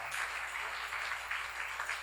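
Applause from a church congregation during a sermon seminar, a steady, fairly faint wash of clapping that holds evenly throughout without speech on top.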